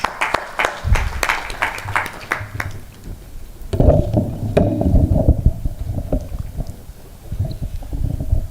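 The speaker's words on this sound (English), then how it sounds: "let's give them a round of applause" Audience at an African financial institutions forum applauds: sharp, scattered claps at first, then a denser, noisy wash of clapping that swells and fades over several seconds.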